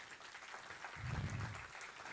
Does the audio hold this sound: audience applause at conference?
yes